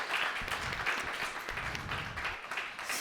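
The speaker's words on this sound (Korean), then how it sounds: "한번 박수 한번 칠까요?" A church youth-service congregation claps together, a dense burst of applause lasting a few seconds at moderate distance, with no speech over it.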